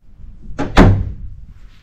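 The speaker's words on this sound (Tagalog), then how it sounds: "Naririnig na ako nabubukas ng pinto" A door opens with a short double clunk of latch and wood, close and fairly loud, followed by a brief fading rustle.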